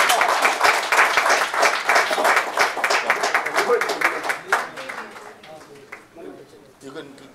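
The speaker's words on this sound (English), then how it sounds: "Can we please have a huge round of applause?" An audience at a health insurance summit breaks into loud, dense applause that thins out and fades over several seconds, with a speaker's voice heard alongside.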